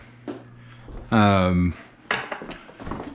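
Ingredients for Peking duck and mantou being mixed with a utensil in a bowl, heard as scattered clinks and scrapes. A loud tonal ring sounds midway and a voice speaks briefly.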